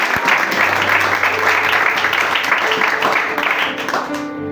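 A church congregation applauds, a dense and steady wash of clapping that fills the room and slowly tapers toward the end, with a few voices mixed in.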